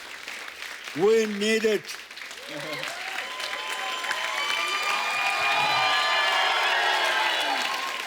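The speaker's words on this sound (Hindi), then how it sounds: "जोरदार तालियां हो जाएं." A television comedy show's studio audience breaks into applause and cheering; a voice speaks briefly over it, then steady clapping and cheers swell and hold, full and close.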